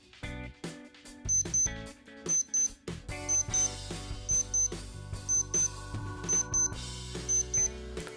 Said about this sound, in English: So when the alarm is going off